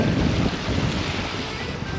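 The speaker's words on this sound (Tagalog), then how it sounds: "Hangin tsaka alon." Strong wind buffets the microphone over the steady wash of sea waves while fishing from a boat in Qatar, a continuous loud roar with no pauses.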